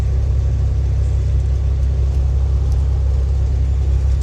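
A truck's engine idles inside the cab, a steady loud low rumble throughout with no change in pitch, close and alone with no voices.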